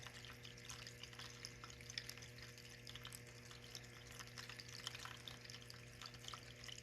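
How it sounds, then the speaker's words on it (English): Small desk water fountain trickling steadily, a soft continuous splash and burble held at low level throughout, with a faint steady hum underneath. "The water noise in the background is a fountain on my desk"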